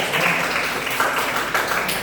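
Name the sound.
audience applause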